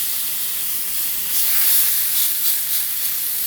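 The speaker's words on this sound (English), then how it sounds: "So we're going to sear the pork loins all the way around." Pork loins sear in a hot pan, making a loud, continuous sizzling hiss that swells slightly midway, close up, with no voices.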